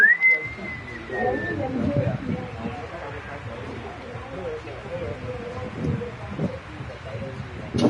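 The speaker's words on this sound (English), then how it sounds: "The referee's whistle brings the first 45 minutes to a close." A referee's whistle ends the first half in the FC 26 football video game: one clear, sustained tone at the start, followed by a murmuring crowd and commentary.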